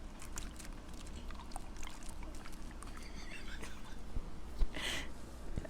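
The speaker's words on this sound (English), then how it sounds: "Oh, it made like a water noise." Slime being squeezed gives a wet, water-like squelch, with soft sloshing and trickling textures and a short louder burst near the end, close up and without talk.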